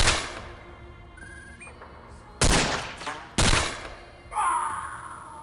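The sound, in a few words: rapid-fire alien rockets in XCOM video game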